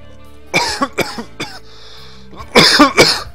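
Several harsh coughs close to the listener, a cluster of three or four, a short pause, then two more heavy coughs.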